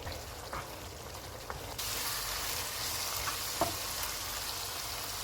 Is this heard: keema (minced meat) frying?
yes